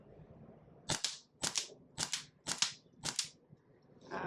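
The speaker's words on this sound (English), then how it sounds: "Show you it firing through HPA, so mag in," Airsoft pistol firing on HPA, a rapid series of five sharp, loud shots at an even rhythm about half a second apart, heard up close with no talking.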